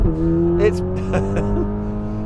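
Tuned VW Golf R Mk 8.5 on a race track, its engine barking loudly and holding a steady harsh drone through smooth gear changes, with a brief spoken remark over it.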